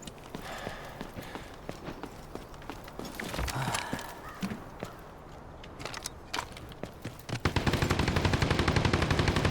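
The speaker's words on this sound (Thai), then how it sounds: "ใครยิง ยิงจากไหน" Gunfire in the video game Delta Force: rapid automatic bursts and single shots crackle throughout, ending in a sustained loud burst, with footsteps and game ambience underneath.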